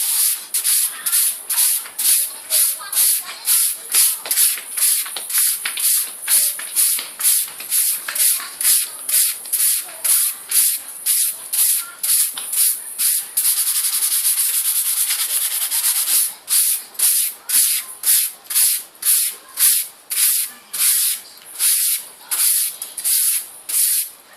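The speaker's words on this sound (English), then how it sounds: "sanding. Just a few light strokes on the side." Steady rhythmic sanding strokes on the metal blade of an antique Moro kris, a rapid series of raspy scrapes with a brief continuous hiss midway, close and fairly loud.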